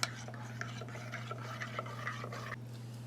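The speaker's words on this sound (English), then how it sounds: "And we'll give this a stir." A spoon stirs hot chocolate in a coffee mug, giving a run of light, quick clinks against the ceramic over a steady low hum, close up and fairly quiet.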